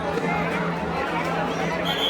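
A dense Sunday crowd at a busy Hindu temple in Maharashtra, a constant close murmur of many voices with footsteps and bustle, while people chat nearby.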